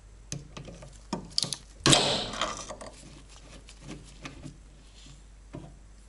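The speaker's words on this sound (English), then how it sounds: "Get a socket wrench and a 14mm socket to remove that bolt on the back side of the caliper" A socket wrench with a 14mm socket works a bolt on the rear brake caliper of a Mazda MX-5 Miata, giving quiet ratcheting ticks and metallic clicks, with one louder clattering burst near two seconds.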